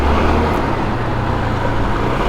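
A SYM 125cc motorcycle rides through a widespread village; the engine drones loud and steady up close, with wind and road noise filling the whole stretch.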